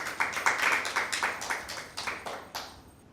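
Audience applause at a school Bible quiz, a short burst of rhythmic hand clapping from a small group, moderately close, fading out after about three seconds.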